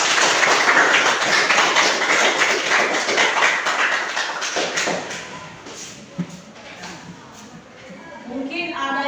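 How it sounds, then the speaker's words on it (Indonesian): A class claps hands in a religious education lesson, dense clapping for several seconds that thins out and fades, followed by quieter room sounds. "Tepuk tangan."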